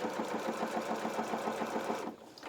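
Sewing machine running a short stay stitch within the seam allowance on a small playsuit, a fast even mechanical chatter of needle strokes that stops abruptly near the end.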